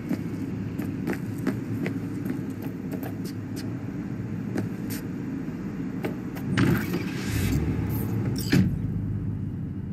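Car driven through city streets in Cyberpunk 2077, a steady low engine and road rumble with scattered clicks and knocks and a louder surge near the end, no talking.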